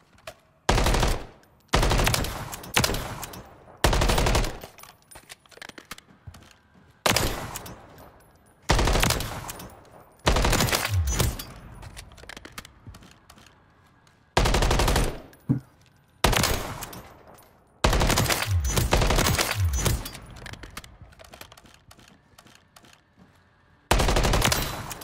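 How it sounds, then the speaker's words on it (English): Submachine gun fire in Call of Duty MW3 on PC crackles in loud, rapid automatic bursts, repeated many times with short gaps between, close and dominant throughout. "the submachine gun just comes out of nowhere and just blasts me"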